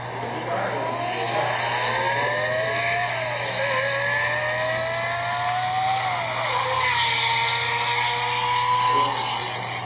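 A high-revving supercar engine screams loudly and close, its shrill whine climbing and dipping in pitch like a racing car.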